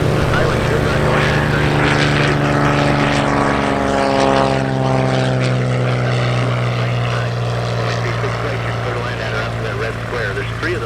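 Skytyper propeller aircraft landing at Oshkosh, a loud, steady droning engine hum that holds close and strong throughout, with a faint voice in the background.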